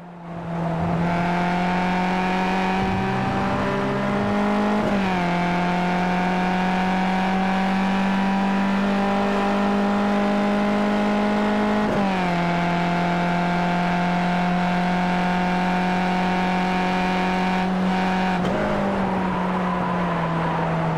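A Skip Barber race car engine in a racing video game drones loud and steady from onboard at Snetterton, its pitch dipping briefly at a few gear shifts before climbing again, with no talk over it.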